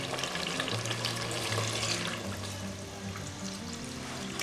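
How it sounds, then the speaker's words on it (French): Peanut paste frying in oil for a Congolese dish with smoked fish, giving a continuous close sizzle and crackle while it is stirred, with faint low music or hum beneath and no talk. "Donc là, j'ai fini de griller la pâte d'arachide."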